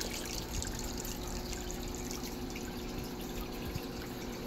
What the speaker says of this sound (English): right now I wanted a little more of the trickling water and sort of babbling brook effect